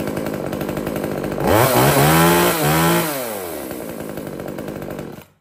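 A small petrol mini chainsaw of about 3 kg starts and revs up loudly, its pitch rising and falling through a couple of bursts before settling to a steady idle and cutting off.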